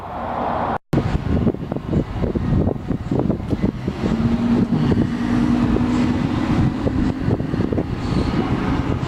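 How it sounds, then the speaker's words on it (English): A tour bus arrives in downtown Williams, Arizona, a loud, continuous rumble of engine and road noise with rattles and a faint tonal whine midway, heard close with wind buffeting the microphone. "Oh, I think my tour bus is here."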